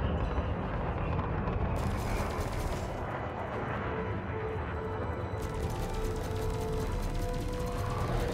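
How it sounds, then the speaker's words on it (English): Continuous dense gunfire from enemy ships in the space combat game Elite Dangerous, a steady loud rumbling barrage with crackling bursts running throughout. "they're shooting at me but completely missing"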